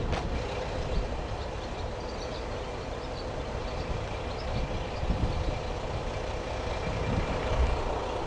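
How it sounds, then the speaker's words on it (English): Continuous low diesel rumble and rattle of a moving diesel train on a high-altitude line in Japan, steady and fairly loud throughout, with no voices. "This is actually a diesel train."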